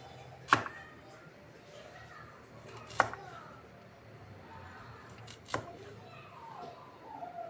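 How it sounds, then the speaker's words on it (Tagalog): Knife chopping ingredients into small pieces for a monggo dish, with three sharp cuts against a board spaced a few seconds apart over a quiet room hum. "hihiwain na po natin ito sa maliliit para ito ay maluto na natin ng maayos"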